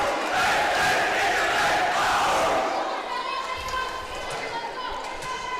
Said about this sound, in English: You can hear the boys chanting.